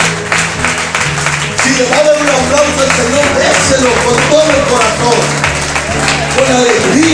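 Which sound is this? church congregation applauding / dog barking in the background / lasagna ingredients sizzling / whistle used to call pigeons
church congregation applauding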